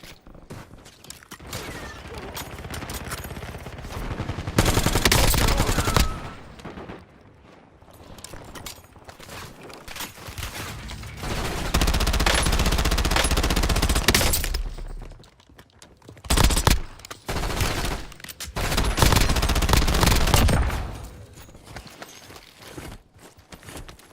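Gunfire bursts from a Call of Duty Warzone shootout, with several loud clustered volleys of rapid shots separated by quieter stretches of mechanical clicks and movement.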